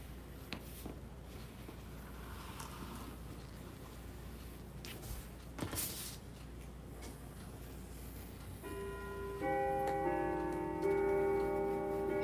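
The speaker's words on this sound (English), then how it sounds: "turn that clock off so it doesn't go nuts at 8 o'clock" A clock ticks steadily and quietly in a still room, with a few soft knocks, and a thin electronic tone rises near the end.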